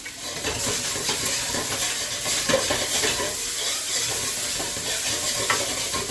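Fried rice sizzling steadily in a new Babish wok, with a continuous frying hiss broken by occasional scraping stirs and light clinks of the utensil against the pan.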